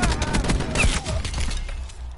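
Shotgun fire in a video game, a quick burst of several close blasts over roughly two seconds, loud and sharp before it fades.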